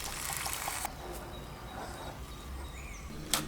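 Saffron-infused fish stock pours into a tagine with a steady broadband rush for the first second, then a quieter trickle and faint dribbling, ending with a sharp splash near the end.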